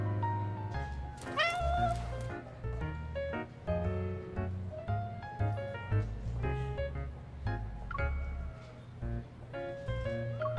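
Cats in the Love & DeepSpace video game meow repeatedly in short, close calls, some drawn out into whiny caterwauls, one after another over several seconds.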